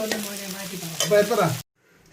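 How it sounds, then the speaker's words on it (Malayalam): Two chopped onions sizzle as they go into hot coconut oil in a pan for a vegetarian curry, with a loud crackling fry and scraping stirs that cut off abruptly partway through. "അതിലേക്ക് നമുക്ക് ഈ അരിഞ്ഞു വെച്ചിരിക്കുന്ന രണ്ട് സബോള ഇടുക"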